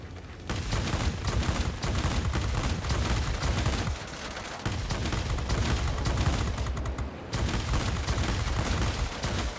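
Bf 109 G 'Gustav' 30mm cannon fire in the World of Warplanes flight game, long loud bursts of rapid booming shots with a few brief pauses between them and no talking.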